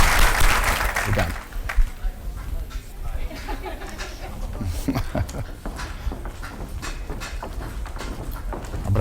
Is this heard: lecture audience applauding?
yes